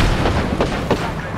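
Grenade blast in the Apex Legends video game: a couple of muffled booming bursts amid gunfire and game noise, with players talking over them.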